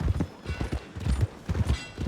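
Horse hooves clop steadily in Red Dead Redemption 2, a close, rhythmic series of low thuds at an easy walking pace with no talk over them.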